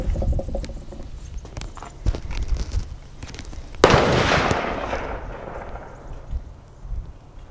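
A single Armalite AR-180 rifle shot fired outdoors at a 50-yard target, a sharp loud crack followed by a rolling echo that fades over several seconds, with faint handling noise and footsteps before it.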